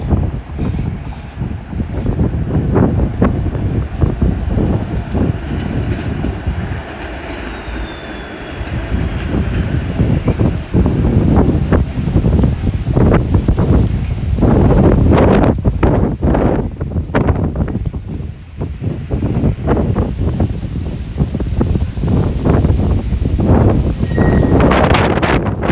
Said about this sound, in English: So windy now. The wind is nice to beat the heat, but I'm not sure how the audio is.